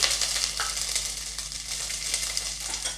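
Mustard seeds and chopped ginger sizzle steadily in hot oil while preparing khara pongal, a continuous close crackling hiss with small pops throughout and no talking.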